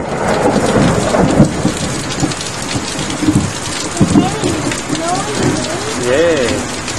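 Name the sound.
thunder from lightning strikes during thunderstorm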